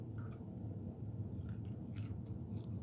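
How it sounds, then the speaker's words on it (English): Oven-fried flounder gives a few faint, brief crunches as it is bitten and chewed, with soft crisp bursts spread over a quiet, low background. "Can you guys hear the crunch?"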